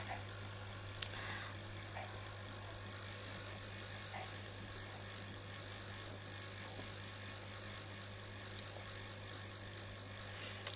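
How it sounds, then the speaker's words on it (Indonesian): An overhead ceiling fan blows air indoors, making a steady, even whirring hum with a low drone that stays constant throughout, with no speech. "Aku pakai kipas atas soalnya."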